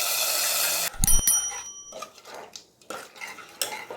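A spoon scrapes and clinks against a pan while banana stem kootu is stirred, with a short burst of noise before a few irregular, close metallic taps and soft scraping strokes.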